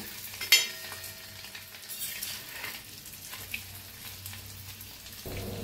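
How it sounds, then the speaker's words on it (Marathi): An egg frying in a pan and flipped to the other side, with a sharp clatter at the turn, then a low crackling sizzle and light spatter. "एका साइडने फ्राय झाले, दुसऱ्या साइडने भी फ्राय करून घेऊया।"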